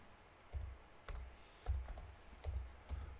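Keystrokes on a computer keyboard while a photo-editing layer is renamed, five or six separate soft clicks spaced about half a second apart, close and quiet with no talk.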